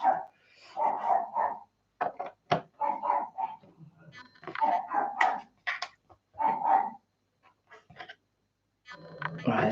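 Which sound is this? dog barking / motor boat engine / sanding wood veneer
dog barking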